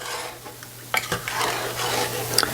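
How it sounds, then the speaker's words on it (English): Coconut and nut frosting is stirred in a pot on the stove, giving soft scraping and clinking of a utensil against the pan over a faint low hum, quiet and close. "You want to stir this constantly though, so that it doesn't scorch."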